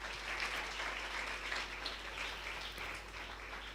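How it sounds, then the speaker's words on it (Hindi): Applause for a pastor and his team at a church youth seminar, a steady wash of clapping from the audience lasting throughout, moderately loud with a low hum underneath. "सो आए पास्टर जावेद राव के लिए, उनकी सारी टीम के लिए ज़ोरदार तालियाँ बजाएं।"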